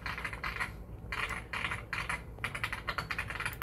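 Rapid typing on a Yindiao Y95 computer keyboard plays back from a video, a steady flurry of clicky keystrokes at moderate volume with no one speaking.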